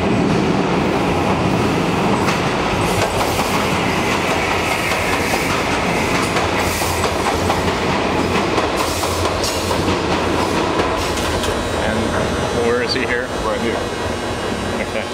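A metro train rumbles loudly and continuously through a station, with wheels clacking and screeching, while a voice speaks under the noise.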